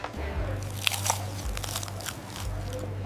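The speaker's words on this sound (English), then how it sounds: "Wow, listen to that crunch." Crunchy bites into hand-breaded, golden fried chicken, several crisp crackling crunches in quick succession close to the mic over a low steady hum, no talking.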